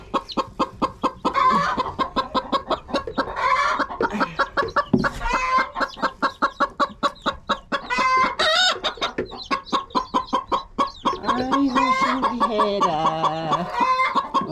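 Chickens in a coop cluck in rapid, repeated bursts close by, a busy overlapping chatter of hens with occasional louder squawks running for the whole stretch, with no talking.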